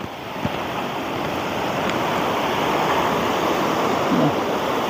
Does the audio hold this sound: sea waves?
yes